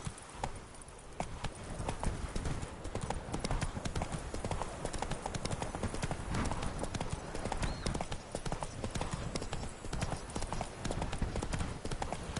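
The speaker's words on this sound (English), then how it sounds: "Run, Roach." A horse gallops in The Witcher 3 on PS4. Its hoofbeats form a steady, close, rapid clip-clop that runs without a break under a rushing background of movement.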